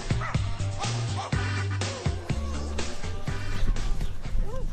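Several dogs in a kennel bark, yip and whimper in a busy, overlapping chorus close by, with short sharp barks repeating throughout and a voice faintly underneath.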